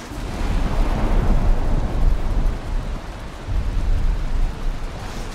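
A storm with deep, rolling rumbles of thunder that swell and fade twice, mixed with wind buffeting the microphone, loud and close, with no talking.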